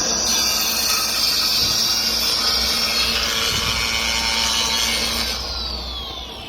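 Festool saw cutting through a clamped board, with a steady, loud whining rasp of the blade biting the wood for about five seconds before it winds down and fades at the end.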